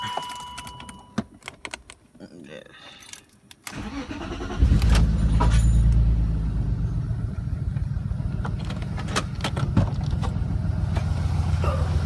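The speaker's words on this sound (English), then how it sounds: "I'm gonna go ahead and start it up" Keys jangle and click near a BMW E36 before the starter cranks and the engine fires, then settles into a loud, steady idle rumble that continues close by.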